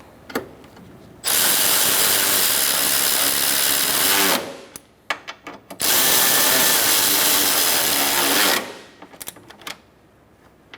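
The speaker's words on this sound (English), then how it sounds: "Just tighten these down." A power tool whirs in two sustained bursts, about three and three seconds long, tightening screws on the grille of a 2014-2019 Kia Soul, with short clicks and taps between and after the runs.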